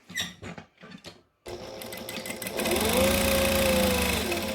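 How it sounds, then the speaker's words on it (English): A sewing machine stitches down the middle of two fabric pieces placed right sides together, its motor starting after some handling noises and then running as a steady, close mechanical whir. "we're gonna put them right sides together, and we're gonna stitch down the middle"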